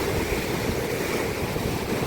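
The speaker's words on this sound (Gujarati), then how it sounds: "દરિયો જો ભાઈ તોફાને ચડી ગયો છે." A rough, stormy sea roars against the shore in a continuous, loud, broadband rush of surf, with wind buffeting the microphone and no voices.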